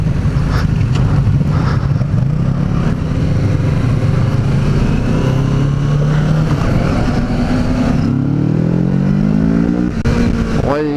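Kawasaki Z650 motorcycle engine pulling hard on a road test ride, loud and close, with steady throttle and rising revs, then a sharp upshift and another climbing pitch sweep toward the end.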